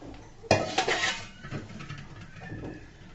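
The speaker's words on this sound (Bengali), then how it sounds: "দেখুন বন্ধুরা, সুন্দর করে বাটির মধ্যে ঢেলে নিলাম।" Radish and dried fish curry served from a pot into a bowl, a sharp metallic clank of a utensil against the vessel followed by a few softer scrapes and clinks, close and fairly quiet.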